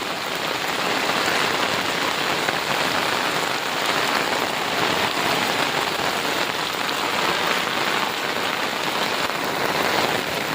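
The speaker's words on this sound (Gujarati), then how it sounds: "આપણે તો એટલા વરસાદના ધાબા ઉપર છીએ જો" Steady, dense rain pours down onto a flat village rooftop terrace nearby, a continuous hissing patter with no voices.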